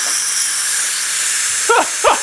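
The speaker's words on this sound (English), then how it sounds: "We're gonna do a quick release with my Minion release valve holder" Steam bursting from the pressure release valve of a Ninja Foodi cooker during a quick release, heard as two short hissing puffs near the end over a steady background hiss.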